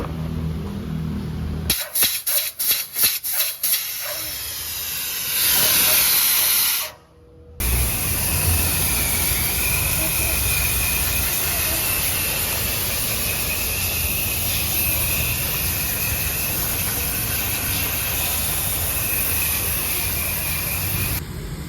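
Pressurised spray hisses steadily and loudly while the AC evaporator of a Mitsubishi Montero is flushed. Short bursts come first, then a brief cutoff, then one long continuous hiss that runs to the end.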